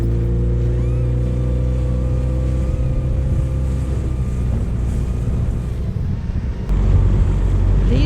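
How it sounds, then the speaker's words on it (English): A small dinghy's outboard motor drones steadily at close range while crossing a harbour at St. Thomas, with wind buffeting the microphone and the engine note shifting toward the end. "And this is our dinghy ride."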